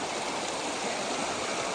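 Creek water flowing near a campsite in the Colorado mountains, a steady close-up babble and rush of a stream over rocks, continuous and unbroken through the brief clip.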